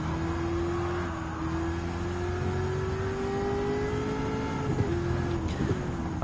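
A race car engine in Gran Turismo 7 accelerating steadily at high revs, a sustained whine that climbs slowly in pitch with brief shifts near the end, close and continuous with no voices.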